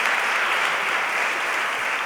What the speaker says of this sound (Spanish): Os advierto que si aplaudís cada aforismo